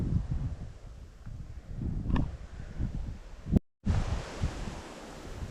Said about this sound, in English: Wind's getting up.